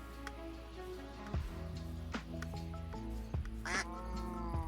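A Minecraft duck quacks several times in short, nasal bursts over a steady background patter like rain, fairly close and with no talking.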